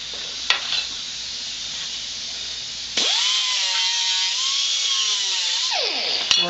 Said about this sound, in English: Next step, deburr the edges.